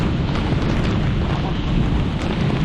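Heavy rain pours down steadily during the rainy season at a farm where cucumbers are being planted, a dense loud hiss that continues unbroken with no talking.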